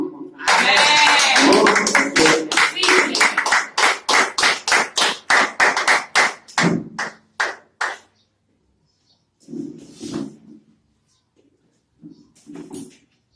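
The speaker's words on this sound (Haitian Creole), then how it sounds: "nous avons un bel applaudissement" A church congregation bursts into steady, loud applause that thins into separate claps and fades out, followed by brief spoken phrases in the quieter moments.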